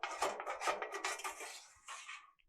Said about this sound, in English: Drain pans can be removed and inserted back